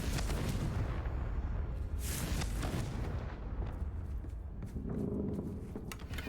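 Repeated fiery blasts of the Confringo spell from Hogwarts Legacy, with loud, dense booming bursts and crackling rolling through the whole stretch, peaking in sharp bright surges along the way.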